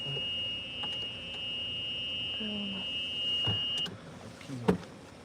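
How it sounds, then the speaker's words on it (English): A golf cart's reversing beeper sounds a steady high tone for about four seconds at a campground cabin area, then cuts off, with a few clatters and low background noise after. "Pardon the beeping noise. That's the golf cart backing up."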